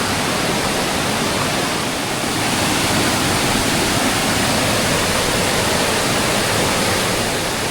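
A steady, full roar of falling water fills the whole clip, dense and continuous from a nearby waterfall at Tat Sadao Falls, Sai Yok, Kanchanaburi, Thailand, with no voices.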